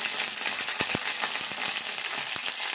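Onion, mustard seeds, cumin and curry leaves sizzle in hot oil, a bright continuous crackle with scattered pops and light stirring taps, close and steady.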